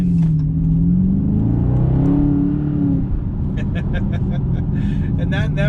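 A 2019 Dodge Charger R/T Scat Pack Daytona Edition's 485 hp engine roars and revs loudly with a deep rumbling tone in track mode, then settles into a steady throaty drone, close and continuous throughout.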